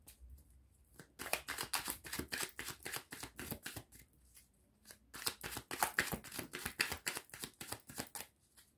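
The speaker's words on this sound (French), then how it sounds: "je vais juste tirer 3-4 cartes, on peut dire, sur un autre tarot" Tarot cards are shuffled by hand in rapid, dense riffling bursts, with a short pause near the middle before a second long stretch of close, crisp card flutter, and no talking.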